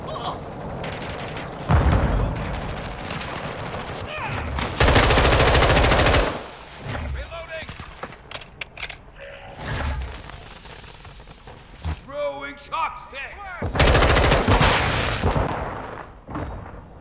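Bursts of automatic weapon fire from the first-person shooter Modern Warfare 2, loud and close, coming in several sustained volleys separated by quieter stretches of game effects and faint chatter.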